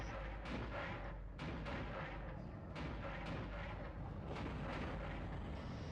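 Turret gunfire in the Dead Space video game, a rapid stream of heavy booming shots and blasts layered over a dense rumbling background, continuous and loud with no talk.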